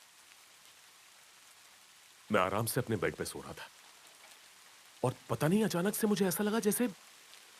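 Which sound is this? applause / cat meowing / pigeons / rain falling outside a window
rain falling outside a window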